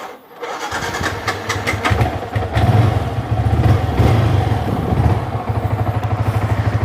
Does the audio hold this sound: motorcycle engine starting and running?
yes